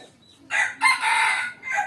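A fighting rooster crows once, loud and close, with a raspy, drawn-out call that rises and then trails off.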